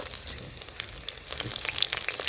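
Cumin, mustard seeds and dried chillies frying in hot oil for a village-style tomato dal, a close crackling sizzle with scattered sharp pops that grows busier in the second half.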